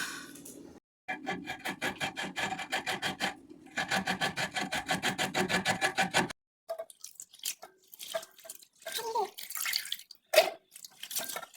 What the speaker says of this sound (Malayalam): ഇനി തേങ്ങ തിരുവണം, പുട്ടുണ്ടാക്കണം